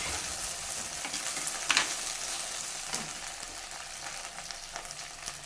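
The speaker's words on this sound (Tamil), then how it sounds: "இப்போ இது வதங்கிட்டு இருக்கட்டுங்க" Onion, tomato and garlic sauté in a pan, a steady close sizzle with occasional stirring scrapes and a brief sharper clink partway through.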